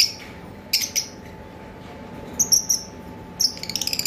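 A pair of green opaline Fischer's lovebirds calls in short, sharp bursts of high chirps, with a quick run of rapid repeated notes near the end, fairly close over a quiet background.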